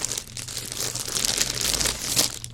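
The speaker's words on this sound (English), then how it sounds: "it comes in this plastic bag" Thin plastic bag wrapped around a mailed travel magazine crinkles and rustles continuously up close, with a denser crunchy burst near the end, no talking.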